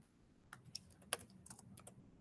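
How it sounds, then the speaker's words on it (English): Light, irregular tapping on a computer keyboard, scattered keystrokes clicking close up in a quiet room, with no voices. "if I'm typing in here, the employee manual starts"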